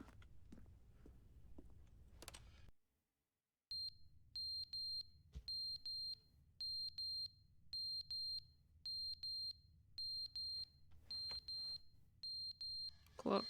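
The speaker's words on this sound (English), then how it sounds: "Alright, so you need to wake up. Your alarm's going off." An alarm clock in The Stanley Parable video game beeps in a steady, regular pattern of bright electronic double chirps, loud and clear, repeating many times after a brief silence, with some lower game sound before.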